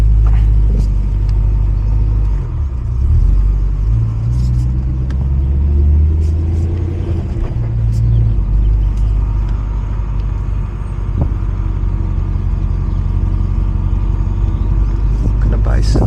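Supercharged BMW E92 M3 engine droning low while the car is driving, a steady rumbling hum with shifts in pitch and road noise beneath someone talking.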